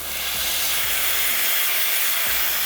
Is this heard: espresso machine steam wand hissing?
yes